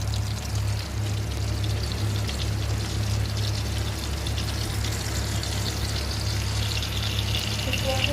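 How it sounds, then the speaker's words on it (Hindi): Mutton kofta frying in a pan, a steady, loud, dense sizzle running without pause throughout, with no speech over it. "ये देखिए अब हम इसको फ्राई करेंगे।"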